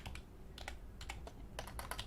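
A computer keyboard typed on in short, uneven bursts of quick clicky keystrokes, close and quiet, with no talking.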